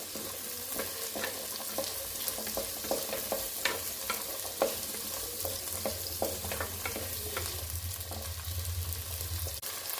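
Onions sizzling in hot oil for a mutton curry, with frequent scraping stirs of a spoon against the pan over a steady frying hiss, close and continuous with no talk.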